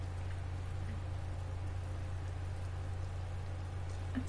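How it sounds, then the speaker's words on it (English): Steady rain hisses in Resident Evil 2 Remastered as an even, dense patter under a low constant hum, with a few faint isolated drops and no talking. "look at the rain. That's so pretty."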